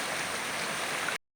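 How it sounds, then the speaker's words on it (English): A swollen creek rushes during heavy rain and flooding, a dense, steady broadband roar of water close by that cuts off abruptly after about a second. "you can hear the creek rushing behind me"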